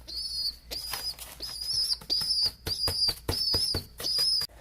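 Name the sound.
pet pigeon flapping wings and chirping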